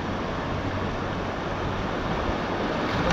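Steady, loud rushing whitewater from rapids on the Ocoee River, a continuous broadband roar with no breaks or voices.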